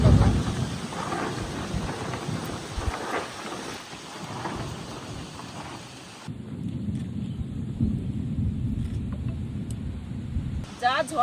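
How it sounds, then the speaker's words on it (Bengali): Thunderstorm outside a village home kitchen, with steady rain and low rumbling thunder throughout; a voice talks over the first half, then the storm continues alone with a brief voice at the end. "যা ঝড় মেঘ এসছে,"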